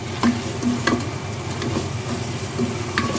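Chicken keema with ketchup and sauces stirred in a hot pan, a steady low sizzle with repeated scraping strokes of the spoon at a regular pace, close and alone without speech.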